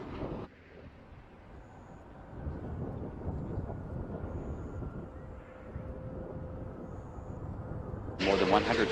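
A space shuttle touches down on the runway, a broad rumbling roar building steadily under a commentator's voice, then a sharp louder burst at the end.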